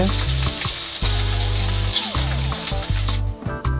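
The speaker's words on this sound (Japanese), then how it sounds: "強火で焼くとこんな風にカリカリした感じになります" Mackerel fries in sunflower oil in a pan over high heat, giving a loud, steady, close sizzle that runs the whole time with no pause.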